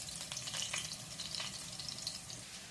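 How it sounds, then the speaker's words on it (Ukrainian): Onions sizzle in a hot frying pan, a steady crackling hiss with small popping spatters, close up and with no talking. "в сковорідку відправляємо цибульку. Ах, гарно шкваркотить."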